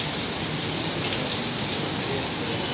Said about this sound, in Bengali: বাইরে আবার বৃষ্টি আরম্ভ হয়েছে